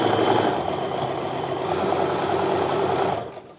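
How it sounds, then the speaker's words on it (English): A sewing machine stitches a quarter-inch quilt seam at steady speed, its dense continuous whir running close and loud before slowing and fading near the end. "Now I'm just gonna go ahead and sew this 1/4 inch seam and pulling those pins as I go."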